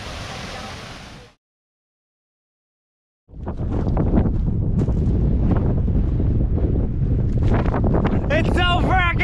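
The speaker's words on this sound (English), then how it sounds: "It's so frackin' windy!" Strong wind buffets the microphone on a hike up Kirkjufell mountain in Iceland, a loud continuous roar that starts after a brief silent gap and keeps going with people talking over it.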